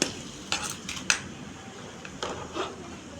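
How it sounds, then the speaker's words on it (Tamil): Crab sautéed in hot oil in a pan for a spicy curry, with a few distinct clanks and scrapes of a spoon stirring against the metal over a faint, steady background hiss. "நண்டு முன்னே எண்ணெயில் போட்டு வதக்கிட்டேன். அப்போ இது சும்மா அப்படியே டைட்டாக வதக்குறேன்."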